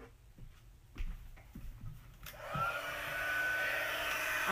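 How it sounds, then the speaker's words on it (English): A heat gun on its high setting melts embossing powder for Stampin' Up craft work, starting around midway as a steady, close blowing hiss after a few soft handling taps and clicks. "Then I'm going to use my heat gun and I'm going to set it into place."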